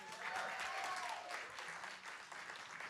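An audience at a live music night at The Bedford applauds a performer, a steady wash of clapping that holds evenly for a few seconds with no voices over it.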